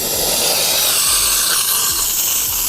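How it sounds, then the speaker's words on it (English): Steam wand on a Profitec Pro 800 lever espresso machine with a 3.5 litre boiler, blasting a loud, steady, continuous hiss of steam close up with no talk over it. "While we're here, I just want to blast the steam."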